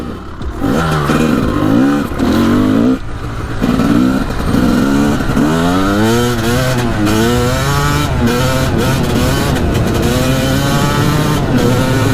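A Honda CR250 dirt bike engine revs loudly and close up on a ride, its two-stroke buzz climbing and dropping in repeated throttle blips before settling into a sustained high-pitched wail.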